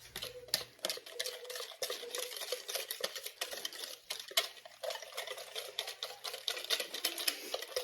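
A cheesy topping stirred with milk in a bowl: a quick, continuous clatter of a utensil whisking against the bowl, close and fairly quiet, with a few wetter scraping strokes.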